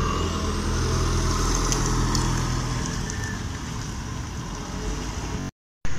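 A green 2021 Jeep Compass Sport facelift drives off, its engine and tyre noise a broad steady rumble that gradually fades, followed by a brief silent gap; no talk.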